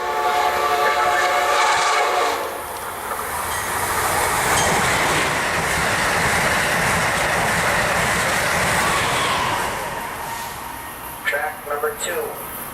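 An Amtrak train, 2259 with power cars 2006 and 2037, rushes past on the Northeast Corridor with a loud, sustained roar of wheels and rail noise, a horn sounding near the start, and clicks near the end.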